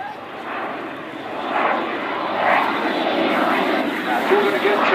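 Typhoon FGR4 fighter jet performing a display at an airshow, a broad roaring engine rumble that swells and holds steady at a distance, with a commentator talking over it.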